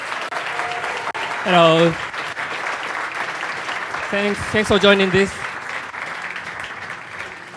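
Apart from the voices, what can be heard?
audience applause for Hiroshi Fujiwara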